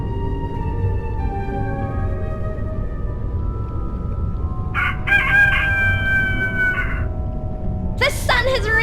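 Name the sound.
rooster crowing from video game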